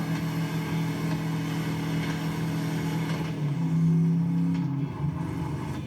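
A vehicle driven in the video game Borderlands 3 gives a continuous engine drone that rises into a louder revving surge near the end, then drops back, with no speech over it.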